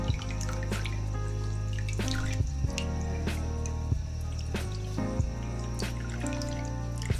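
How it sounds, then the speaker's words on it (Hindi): Whey being squeezed by hand out of fresh homemade cheese, with steady wet dripping and trickling of liquid and occasional squishes, close and clear with no talking. "अब हाथ से मैं इसको अच्छी तरह ना सारा निचोड़ लूँगी।"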